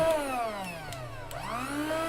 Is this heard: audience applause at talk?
no